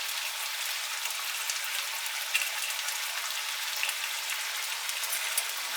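Bacon sizzles in a hot frying pan, a steady hissing crackle with scattered pops, fairly faint and continuous with no voices.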